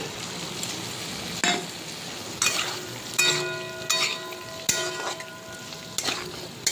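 Fried potatoes tumble into spice paste sizzling in oil and get stirred, a steady close frying hiss broken by several sharp clinks and scrapes of a utensil against the pan.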